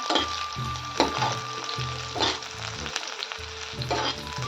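Garlic and green chilies sizzle steadily in hot oil in a pan for a spicy aloo palak sabzi, with a utensil scraping and stirring them in rhythmic strokes, close and moderately loud.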